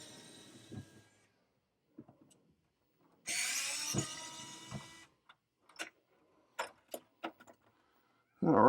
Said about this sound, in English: let me kind of reach in here awkwardly and unscrew this thing